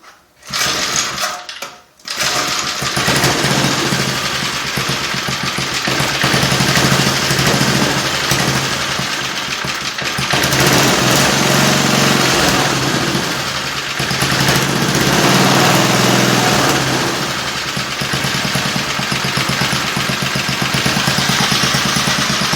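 A small minibike engine runs steadily at close range, a buzzy mechanical drone that rises and falls slightly in pitch, with no talking.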